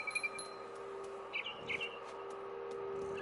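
Bird chirps in a tree within the video game What Remains of Edith Finch: a few short, faint tweets over a quiet steady ambient hum, with no voices.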